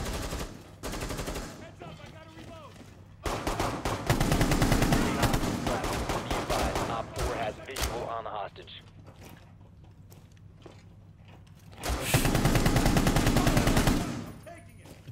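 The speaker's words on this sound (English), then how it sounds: "Took a lot of shots, but I don't care." Gunfire in Rainbow Six Siege: loud bursts of rapid automatic shots in two stretches with quieter pauses between, while players talk over the action.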